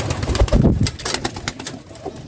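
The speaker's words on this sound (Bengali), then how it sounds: "অনেক কবুতর এখনই ভিতরে প্রবেশ করছে" Many Beauty Homa pigeons coo and rustle close by in a loft, a dense, continuous murmur of birds with occasional wing flutters.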